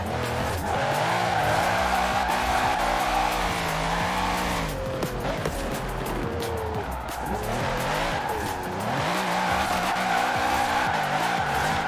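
A Mercedes SL65 AMG drifts in Forza Horizon 4, its tires squealing in long wavering screeches over a steady engine drone, loud and continuous with a short dip midway.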